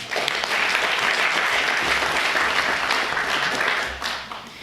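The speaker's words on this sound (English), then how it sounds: "Please give yourselves a round of applause" A caucus audience gives a sustained round of applause, dense and steady clapping from a roomful of people that tapers off near the end.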